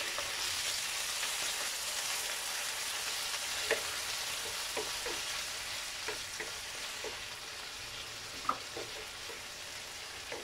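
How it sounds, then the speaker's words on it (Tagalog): Tomatoes sautéing with garlic in a pan give a steady, close, soft sizzle, dotted with occasional light clicks and scrapes from stirring. "Igisa lang natin ng maayos yung kamatis hanggang magdurog-durog siya"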